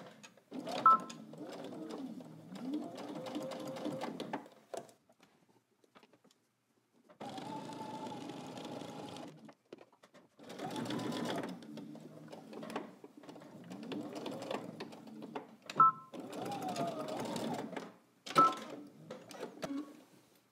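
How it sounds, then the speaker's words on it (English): Sewing machine stitching a pair of pants through all layers along an existing stitch line, running in several bursts of steady motor whir with short pauses between, including a backstitch at the start and end. "You're just stitching to the dot, up through the top, through all layers, following your existing stitching line."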